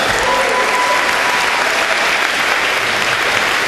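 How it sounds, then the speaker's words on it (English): An audience at a League of Legends ceremony gives loud, sustained applause, dense clapping from a large crowd that holds steady throughout. "give yourself a round of applause for that"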